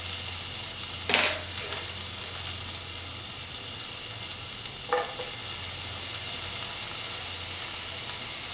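Green chili, garlic and ginger sizzling in oil in a pan, a soft steady frying hiss with two brief louder stirring scrapes.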